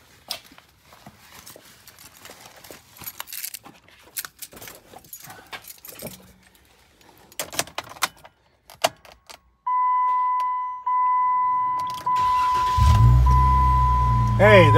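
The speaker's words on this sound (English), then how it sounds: "I'm gonna go inside and fire this thing up" A Jeep JK with a freshly reinstalled intake manifold cranks and starts after keys jangle and footsteps, then settles into a steady, loud idle with a few rising revs.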